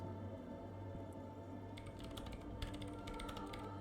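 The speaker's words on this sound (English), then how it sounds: "She's typing. Breaking into my radio computer, I see." Keyboard typing on a radio computer in the video game Disco Elysium comes as a soft, quick patter of keystrokes in two short bursts over a steady low ambient drone.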